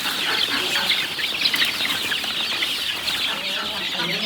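Chicks and chickens on a village poultry farm cluck and chatter busily as they peck at scattered feed. The flock is close and continuous, with a voice faintly in the background.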